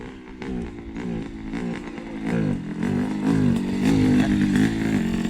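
A pickup truck engine idles rough just after starting; the truck may have a piston problem. The close, steady rumble rises and falls with light revs, growing somewhat louder toward the end.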